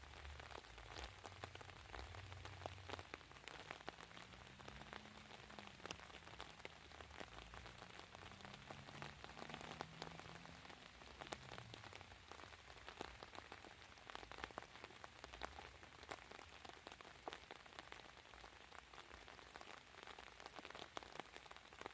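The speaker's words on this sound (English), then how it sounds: "Definitely having difficulty with the rain" Steady rain falls outdoors while a tinder fire is lit with matches on a rock, a constant soft patter on surfaces throughout, fairly quiet, with no talking.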